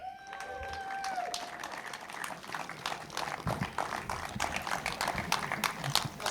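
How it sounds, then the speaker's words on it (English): Spectators at a British Kart Championships Honda Cadet final at Warden Law clap for the winner, a lively but fairly distant patter of applause continuing throughout. "round of applause please, Joshua Graham."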